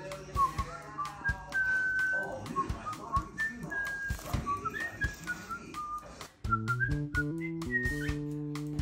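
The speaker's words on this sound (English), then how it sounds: "start whistling." A person whistles a run of clear, close melodic phrases to a possessive pet bird, with short rising and falling notes and a steadier repeated tune near the end, over light background clatter and soft sounds.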